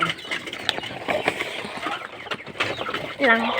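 Chickens cluck and squawk while being fed in a backyard, with clucks scattered among close rustling and handling noises, and people talking nearby.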